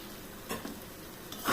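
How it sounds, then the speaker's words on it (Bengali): Spice paste frying in foaming coconut milk that has released its oil, with a soft steady sizzle, a few scraping stirs of a utensil in the pan and a louder clink near the end. "মশলাটা ভাজা হোক"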